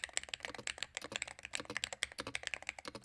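Rapid keystrokes on an Aula Hero 68HE keyboard, a dense run of crisp, even clicks and clacks close up with no talking.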